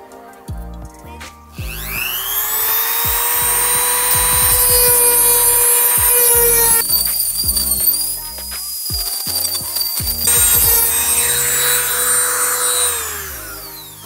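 A power tool trims a Seibon carbon fiber hood for a Honda Civic, giving a high, grinding whine that holds for several seconds. Short bursts of cutting and scraping against the composite come between the pauses.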